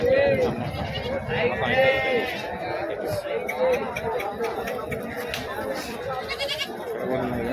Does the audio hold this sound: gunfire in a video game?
no